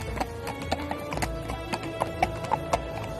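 Horses' hooves clip-clop steadily at a walking pace in a story sound effect, with a brief whinny, the sound of a man slipping out of the village at dawn with all his horses.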